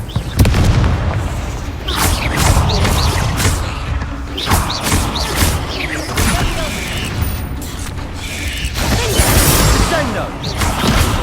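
Confringo fire spell blasts in the Hogwarts Legacy game, a few loud booming thuds and crackling bursts amid dense in-game sound effects and footsteps, with a voice speaking briefly.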